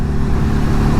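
Suzuki V-Strom 650 motorcycle engine pulling hard in fifth gear with the throttle opened, a steady, loud, close mid-pitched engine drone holding evenly from start to finish with no talk.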